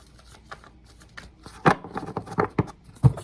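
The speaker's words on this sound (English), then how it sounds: "Okay, let me just get a couple of shuffles here." Tarot cards riffle and slap together in a few quick shuffles, close up, with soft taps and flutters between bursts.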